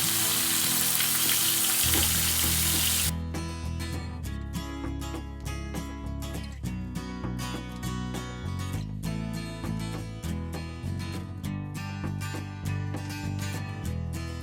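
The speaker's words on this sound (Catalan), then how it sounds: "Hauríem de sellar el sabor de la vedella. Així ràpid." Veal searing in a hot pan, a broad loud sizzle over the first three seconds, then steady frying with rhythmic clinks and stirring taps for the rest.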